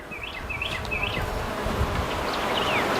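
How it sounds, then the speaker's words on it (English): A dense swarm of honey bees drones steadily around an open hive during an inspection, with sharper individual buzzes passing near the microphone over the constant hum. "We have a lot of bees down there, and that's a good sign."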